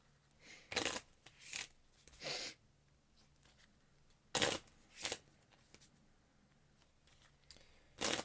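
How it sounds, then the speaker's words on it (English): A deck of Marvel Champions game cards is shuffled by hand, in several short riffling bursts separated by pauses, close up and soft, with no talking. "And we're shuffling."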